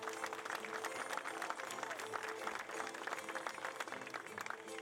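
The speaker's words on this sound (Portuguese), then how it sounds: "eu quero ouvir as palmas." Steady, fairly faint clapping from an audience at a Portuguese folk singing event (cantoria) in Fontinhas, a continuous patter of many hands with crowd noise mixed in.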